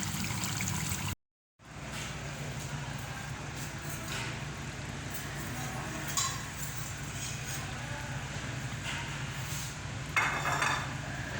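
Chicken karahi being served from the cooking pot into a dish, with a few faint clinks of a utensil against metal over a steady low kitchen hum, briefly cut to silence near the start.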